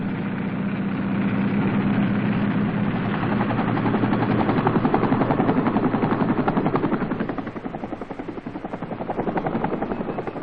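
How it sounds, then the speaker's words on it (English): Dust-off casualty evacuation helicopter in 1968 South Vietnam, its rotor chopping steadily and loudly throughout, swelling and easing slightly as it holds nearby, alone with no talk. "casualties are evacuated by helicopters known in Vietnam as dust-off."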